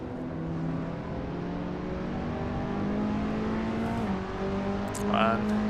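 A Skip Barber Formula 2000 race car engine in the sim racing game Assetto Corsa, a steady mid-pitched drone holding fairly constant revs with a slight shift near the end, continuous under the soundtrack.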